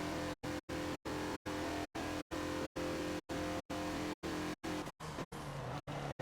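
A 2014 Mazda Lola B12/80 prototype race car in Forza lapping Spa, its engine a steady loud drone that is chopped by rapid regular gaps into a stuttering pulse.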